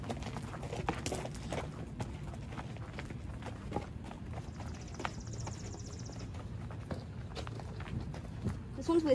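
Hooves thud and clop irregularly on the ground as horses, including a quarter horse, move about nearby at a barn, with footsteps and faint background noise, fairly soft and unhurried.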